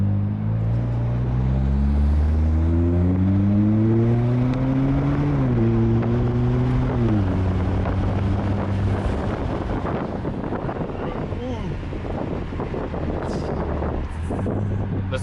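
A 2022 Mazda3 turbo with aftermarket intake and exhaust pulls away in a high gear, its engine drone rising steadily through the gears with wind noise, loud and continuous from inside the car.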